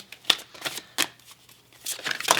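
Tarot cards being shuffled by hand, a run of crisp riffling and slapping bursts that come in irregular clusters, close and fairly loud, with no voice over them.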